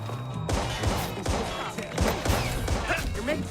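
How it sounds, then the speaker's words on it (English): Gunfire shattering glass in Watch Dogs 2 gameplay, with a series of sharp shots and breaking crashes in quick irregular succession, close and loud, mixed with game sounds and voices. "You can shoot glass."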